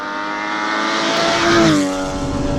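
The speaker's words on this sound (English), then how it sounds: "With this mufflerless exhaust, the GT4 is glorious sounding, absolutely glorious." Porsche Cayman GT4 flat-six with a mufflerless exhaust revs up loud and close, its rising then settling engine note holding steadily with no talk over it.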